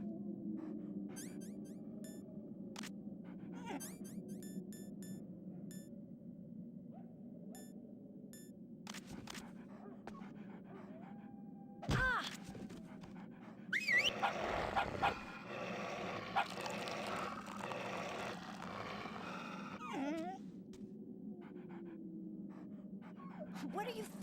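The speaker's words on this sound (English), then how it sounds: "I thought you were good with dogs." Dogs in the video game Metal Gear Solid The Twin Snakes pant, whimper and yelp in short bursts, with a louder scuffle of barking midway, over a low droning game soundtrack.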